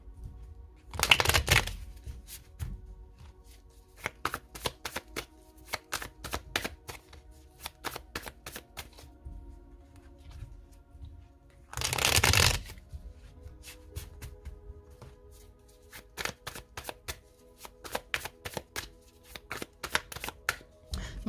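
Tarot cards are shuffled by hand in two loud bursts, one around the start and one midway, between long stretches of sharp, isolated card snaps and taps as cards are laid down; no talking is heard.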